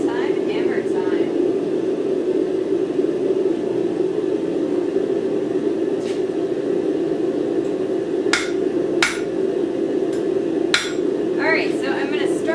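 Hot metal being hammered while forging a three-prong fork, a few sharp ringing strikes standing out over a loud, steady roar of forge blower noise, with a voice speaking briefly near the start.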